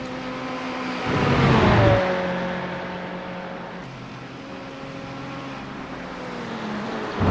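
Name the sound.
race car engine at Spa in iRacing video game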